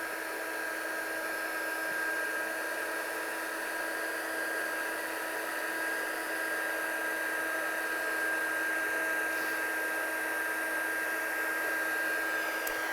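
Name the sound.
heat gun setting embossing powder on card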